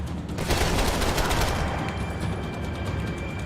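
Rapid gunfire in the video game Max Payne 3 crackles loud and dense in a continuous burst of overlapping shots, thinning slightly toward the end.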